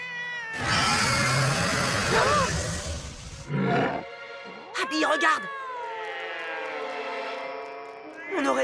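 A cartoon cat meows and growls in several loud, drawn-out bursts with brief pauses, some harsh and snarling, others rising and wavering, under a steady musical score.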